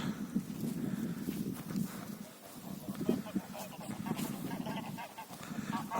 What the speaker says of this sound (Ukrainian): там гуси купаються